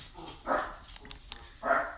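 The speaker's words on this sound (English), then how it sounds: "What are you barking at, Bubba?" Bubba the dog barks twice, with a pause between the two sharp, fairly close barks and some faint background noise in between.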